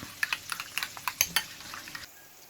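A spoon whisks soy sauce into a sauce in a bowl for a crispy zinger burger, giving a quick series of light clinking taps for about two seconds before the sound stops.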